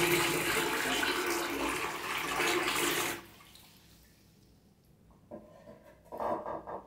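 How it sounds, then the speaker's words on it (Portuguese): A mug of very hot water poured into a toilet bowl, a loud steady splashing rush for about three seconds, then quiet trickling and a few smaller splashes. "eu vou colocar agora uma caneca de água. Olha só, bem quente"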